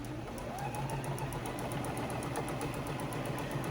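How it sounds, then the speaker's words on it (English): Sewing machine stitching quilt pieces at a small stitch setting, a quiet, fast regular mechanical whir and tick running steadily and alone. "I have my sewing machine"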